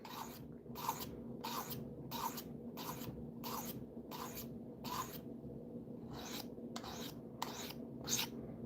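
Knife strokes on a finer 400 or 600 grit whetstone: about eleven smooth, evenly spaced rasping passes in a steady rhythm, close and clear, with no talking.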